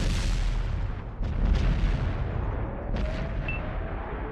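Tank cannon fire and distant booms during a competitive tank video game match, a dense continuous rumble of battle with several sharper blasts rising out of it.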